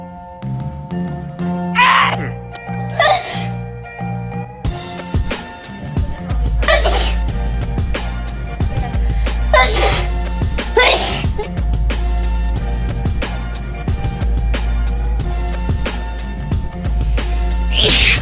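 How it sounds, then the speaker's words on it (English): Repeated human sneezes, several sharp bursts spaced a few seconds apart, close and loud over a persistent low hum and assorted rustling. "I'm on a sneezing spell."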